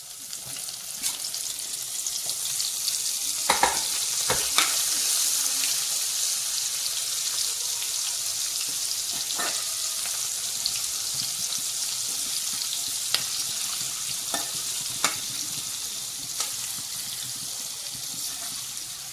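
Coated crispy corn deep-frying in hot oil, a steady close bubbling sizzle that runs throughout, broken by occasional sharp pops and crackles.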